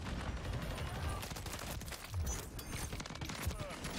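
Rapid bursts of automatic fire from the TAQ Eradicator light machine gun in Modern Warfare 3 rattle on quietly, with sharp shots layered over faint background game noise and possible talk.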